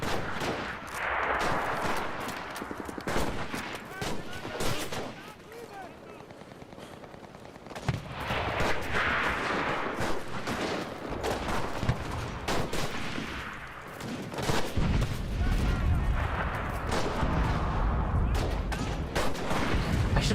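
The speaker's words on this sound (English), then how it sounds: "I'm shooting through grass" Sniper rifle fire in GTA Online, shooting through grass: a dense run of sharp shots and bursts over a busy game soundscape, with a voice talking over parts of it.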